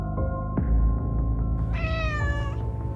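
A cat meows atop a tower in a horror video game: a few drawn-out, wavering meows over a steady, droning ambient score.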